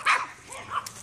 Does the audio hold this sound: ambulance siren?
no